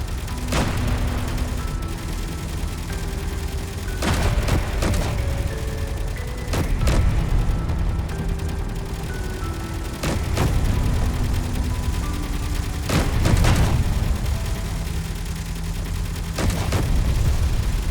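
Repeated booming shots fired at a ship in Space Engineers, striking in irregular bursts over a steady mechanical hum with shifting electronic tones.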